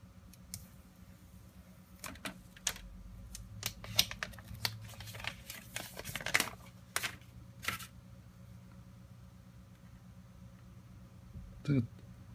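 Apple Watch sport packaging is torn open along its side strip, giving a series of sharp, close crinkling rips and paper snaps, with a voice talking faintly in the background.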